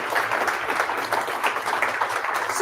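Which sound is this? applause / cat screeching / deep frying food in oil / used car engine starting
applause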